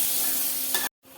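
A spoon stirs a sizzling tempering of onion and curry leaves in a hot pan for kadhi, a steady close frying hiss with a brief scrape before the sound cuts out abruptly.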